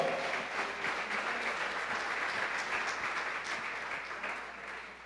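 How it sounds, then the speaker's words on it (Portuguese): Congregation applause at a Nova Vida church service, a steady dense wash of many hands clapping together, moderately distant and even in level, fading slightly toward the end with no talk over it. "Dê uma salva de palmas ao Senhor."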